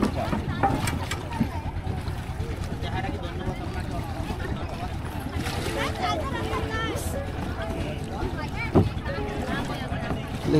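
A hand-rowed boat carries a group on the Bhairab River at Khalishpur in Khulna, with steady water and wind noise throughout while people talk over it.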